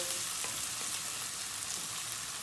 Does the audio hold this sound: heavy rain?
no